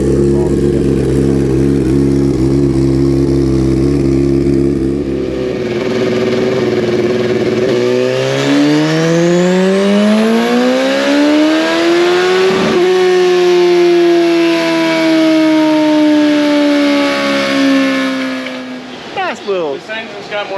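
A turbocharged Suzuki Hayabusa drag bike engine with Fuel Tech management on a dyno, running on wastegate: loud idle, then a long rising pull that sweeps up through the revs, drops, and climbs again before cutting off.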